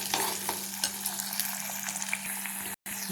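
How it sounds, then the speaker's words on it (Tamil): Onions and garlic sautéing in a pan, a soft continuous sizzle with intermittent stirring scrapes and a steady low hum, briefly cutting out near the end. "வெங்காயம் கொஞ்சம் வதங்கிட்டு கொஞ்சம் வதங்கினப்புறம் தக்காளி போட்டுக்கலாம்."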